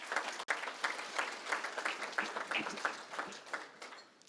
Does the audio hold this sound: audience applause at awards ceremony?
yes